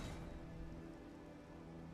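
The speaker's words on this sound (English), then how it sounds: "let me at least get rid of the rain" Steady rain falls in the video game Elden Ring, a dense, even patter of drops on surfaces that stays close and constant throughout, with no voices.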